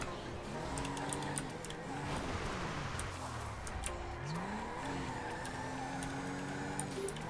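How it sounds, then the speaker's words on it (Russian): Drift cars in GTA 5 keep up a continuous engine drone with rising and falling revs and tire noise, steady and fairly loud throughout. "за ним уже две тачки дрифтовые уже сколько катаются"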